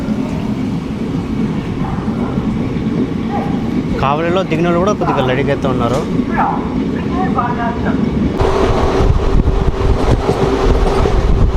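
Passenger train 17248 from Dharmavaram to Narasapuram pulls out of Kavali station, its loud carriage rumble steady and building toward the end, with someone speaking over it in the middle.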